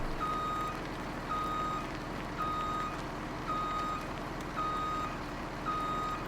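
Truck reversing alarm in Farming Simulator 17: a steady series of high electronic beeps, about one per second, repeats evenly over a low engine hum, with no talking.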